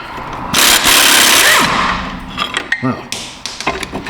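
A wrench with a swivel socket works a bolt loose on a rusted-out Chevrolet: a loud, rasping burst of metal noise comes first, then a series of sharp, irregular clicks and knocks up close.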